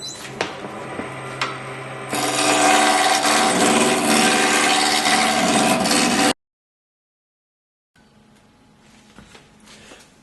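A square wood block turning on a lathe gives a steady, loud rasping and rubbing drone that swells after about two seconds, then stops abruptly. After a silent gap, a fainter scraping resumes.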